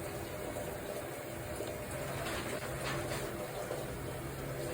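Cooked food for a GERD-friendly meal is scooped out and drained, giving a steady, close rush of running liquid that continues evenly throughout with no break.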